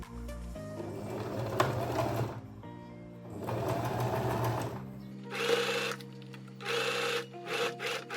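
A sewing machine stitches around the neckline of a tie-front puff sleeve dress, running in several steady bursts of even, rapid needle chatter with short pauses between them, close and clear with no talking.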